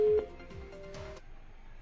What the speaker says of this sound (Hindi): फोन शायद डिस्कनेक्ट हो गया है